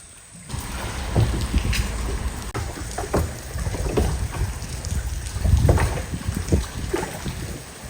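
Small waves lap against the hull of a boat lying at anchor during solo camping and fishing, with wind buffeting and rain around it; a steady rushing bed of water and wind with irregular low thumps and slaps, fairly close, no talk.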